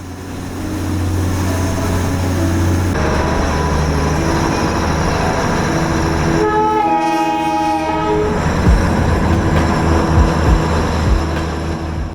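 The Darjeeling Himalayan toy train on a joy ride near Batasia Loop and Ghum, a loud close rumble of rolling wheels and carriages with a long horn blast in the middle, no talk.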